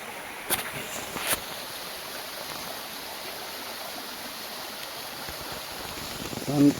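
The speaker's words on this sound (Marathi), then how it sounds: "शांत नदी वाहते मस्त" A calm river flows beside a house in the Konkan countryside, making a faint, steady wash of running water. Two brief knocks stand out early, and a short louder rustle comes at the end.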